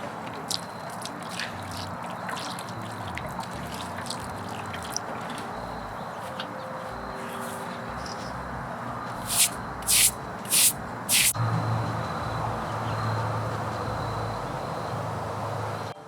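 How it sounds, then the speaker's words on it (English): Water sprays in several short, loud bursts to rinse a marble headstone, following a stretch of quieter outdoor background with light scrubbing-like ticks. "let's rinse and see how that goes."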